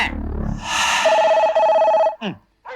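A telephone bell rings loudly in repeated bursts, with dogs barking and yelping around it in a comedy scene, briefly overlapping.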